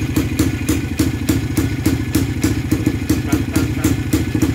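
A Libeňák motorcycle engine idles steadily after carburettor tuning, a loud, close, even chugging pulse with a slight clatter that holds a constant rhythm throughout.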